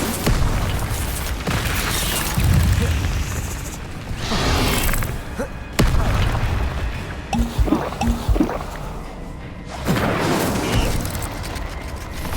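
Repeated Incendio fire spell casts in Hogwarts Legacy combat, loud booming fiery bursts and crackles arriving in several waves amid dense clashing game noise.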